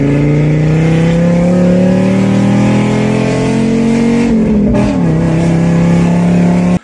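A Fiat Marea 2.0 20-valve five-cylinder engine revs loud and close, holding a steady droning pitch that rises slowly, dips briefly near the end, then climbs again, with no voices.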